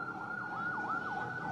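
A civil defense emergency vehicle's siren wails close by in a rapid rising and falling pattern, loud and continuous as it arrives near Jenin camp amid destruction and a fire.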